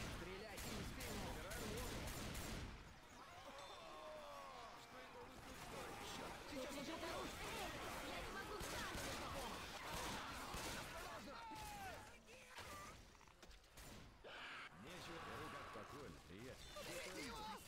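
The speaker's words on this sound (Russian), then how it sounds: "Выстрел." Rapid bursts of gunfire crackle and boom in a Left 4 Dead 2 battle, with shouting voices mixed in throughout.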